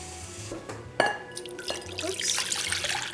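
Water poured into a container in a home kitchen for bacon spoonbread, a few seconds of splashing, trickling liquid that starts with a sharp onset and keeps going steadily up close.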